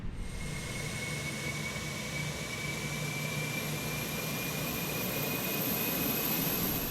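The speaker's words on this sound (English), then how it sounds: "APU's firing up." An Airbus A320 auxiliary power unit spools up in the Fenix flight simulator: a steady, loud turbine roar with thin high whines that creep slowly upward in pitch, continuous and unbroken throughout.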